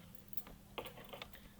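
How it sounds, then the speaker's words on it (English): Soft clicks of a computer keyboard as text is typed into a PowerPoint slide, a few scattered keystrokes, faint and close, over quiet room hiss. "See, I am typing something"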